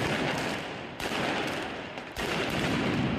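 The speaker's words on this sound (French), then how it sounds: "À Rennes, il y a des feux d'artifice." Fireworks explode loudly during a street protest in Rennes, France, with sharp bangs at about one-second intervals over continuous crackling and rumbling noise.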